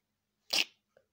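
One short, sharp sneeze-like burst from a person mimicking a tiny cat sneeze, followed by faint quiet sounds.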